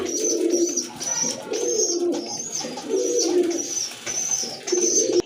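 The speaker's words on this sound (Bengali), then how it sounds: "খুব ভালো ডাকে ভালো মানের কবুতর" Domestic and foreign pigeons offered for sale coo in repeated low, rolling phrases that sit close and fairly loud, with short gaps between calls and no talk.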